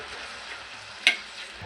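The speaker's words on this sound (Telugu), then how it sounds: "టమాటాలు వేసుకొని కలుపుకోవాలి." Tomatoes are stirred in a frying pan over a low, steady sizzle. One sharp click of the utensil comes midway, and no one speaks.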